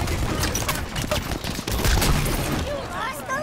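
Rapid gunfire from hostile enemies in the video game Halo 5: Guardians: dense, loud bursts of shots overlapping one another in a continuous barrage, with other game noise mixed in.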